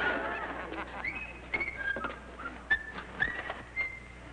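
A voice imitates Donald Duck in an Amos 'n' Andy comedy, producing a string of short, nasal, squawking quacks in quick irregular bursts over a quiet background.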